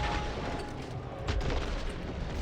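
A grenade goes off in Killing Floor 3 on Hell on Earth difficulty, a burst of blast noise inside a steady, dense wash of gunfire and combat din.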